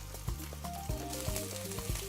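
Onions and peppers for fajitas frying in a pan, giving a soft, steady sizzle with a few light knocks, quiet and close, no one speaking.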